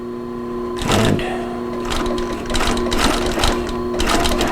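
A lightweight leather sewing machine stitching through several layers of leather, a loud close mechanical whirr in repeated bursts with a steady motor hum between runs.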